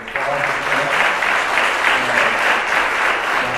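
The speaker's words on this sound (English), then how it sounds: "y'all can give him a round of applause." Steady applause from a trade and investment symposium audience fills the whole stretch, dense clapping at an even level with no voices standing out.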